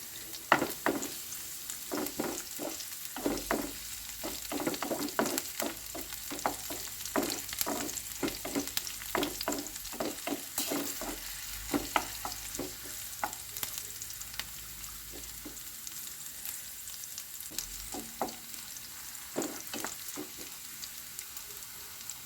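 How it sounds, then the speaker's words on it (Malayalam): Ginger, garlic and green chilli fry in oil for an okra mappas curry. A continuous close sizzle runs under frequent sharp scrapes and knocks of a stirring spoon, with no talking. "ഇതിലേക്ക് കുറച്ചുകൂടി എണ്ണ ഒഴിച്ചു കൊടുക്കാം ഇതിലേക്ക് ഇഞ്ചി വെളുത്തുള്ളി പച്ചമുളക്"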